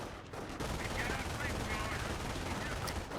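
Machine gun fire rattles in a video game match, a continuous burst of rapid shots set back in the mix beneath game sounds.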